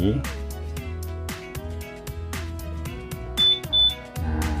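A Fazzio scooter's keyless system gives two short, high electronic beeps in quick succession, set over a steady musical background.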